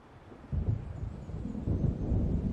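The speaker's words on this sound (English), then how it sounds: "It seems there's a storm coming." Thunder of an approaching storm in Alan Wake, a low rumbling roll that rises after a quiet start and keeps grumbling at moderate loudness, with wind-like noise underneath.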